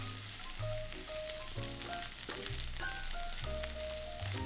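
Shallots, dried shrimp, sausage and cured pork fry in oil for turnip cake. A close, continuous sizzle and crackle runs throughout. A low, steady hum sits underneath it.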